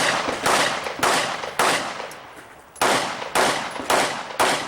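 Pistol shots ring out at an IDPA shooting match stage at an outdoor wildlife club range, loud and sharp, about seven reports in irregular pairs and singles across a few seconds, each with a short decaying echo.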